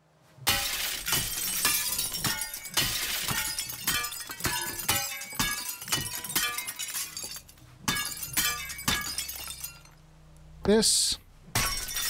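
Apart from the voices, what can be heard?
glass breaking in the video game Teardown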